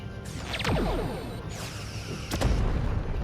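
Explosions as an enemy starship's shields are destroyed in a space battle game, a few heavy booms with sweeping whooshes in quick succession, loud and close.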